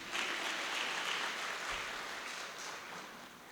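A school audience at a women's recognition event claps for an honoree, a broad, continuous patter of many hands that stays fairly level and softens a little toward the close.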